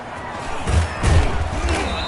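A home crowd roars in a football video game during a playoff matchup, a broad, swelling stadium din with rising cheers, heard under a commentator's voice.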